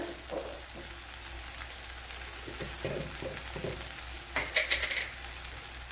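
Kashmiri chilli powder fries in a pan for a Kerala evening snack, giving a constant close sizzle with a few soft stirring scrapes and one brighter spitting burst near the end, with no one speaking.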